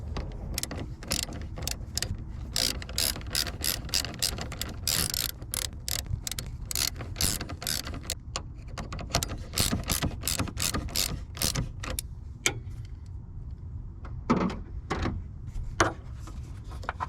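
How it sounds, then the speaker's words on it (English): A 10 mm ratchet loosens the negative battery terminal on a 2019 Chevrolet Silverado 1500 Z71 LTZ, giving rapid, close metallic clicking in steady bursts with brief pauses and no talking. "Just go ahead and remove that negative battery terminal and keep yourself safe."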